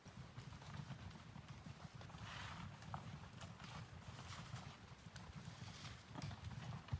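Horses carrying tourists walk along a trail, their hooves giving a faint, steady clip-clop in a continuous irregular rhythm at some distance.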